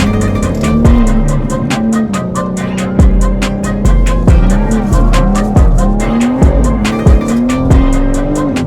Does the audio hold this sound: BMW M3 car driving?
yes